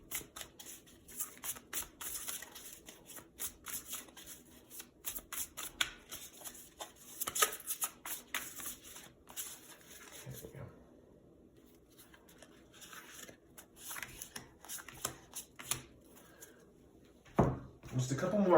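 Tarot cards are shuffled with the piles rotated, giving a dense run of quick, soft riffling flicks close by, interrupted by a short pause and then resuming, with quiet talk in the background.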